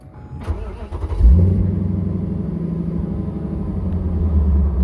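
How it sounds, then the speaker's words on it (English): A supercharged Audi-engined Toyota MR2 cranks and fires up, a brief starter whir and a sudden loud catch settling into a close, steady rumbling idle. "Crank her up."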